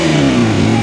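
Motorcycle engine revs loud and close for a wheelie, a sustained mid-pitched roar that holds through the brief moment, with no talking over it.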